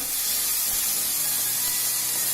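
Chopped tomatoes, two of them, sizzle in hot oil while cooking a dhaba-style egg tadka: a loud, steady, dense frying hiss fills the whole stretch with no pauses and no voices.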